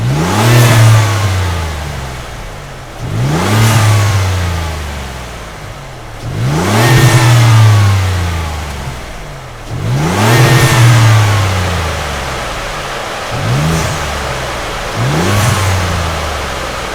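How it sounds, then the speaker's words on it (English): A Ford F-150 fitted with an S&B cold air intake revs repeatedly, about five rising-and-falling throttle blips at a steady pace, loud and close with strong induction roar and no voices. "you can hear some nice turbo spooling, Some nice induction noise, but not over the top"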